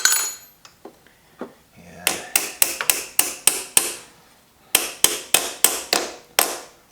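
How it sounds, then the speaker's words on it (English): A machinist lightly taps a part into place with a hammer while assembling a slow-speed carbide grinder, a faint clatter first, then two quick runs of sharp, close metallic taps in an even rhythm. "I'll just set it down over that and lightly tap."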